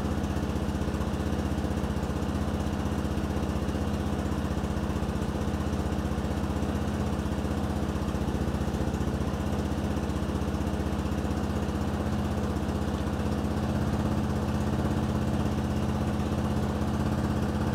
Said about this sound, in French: Donc je laisse le moteur allumé.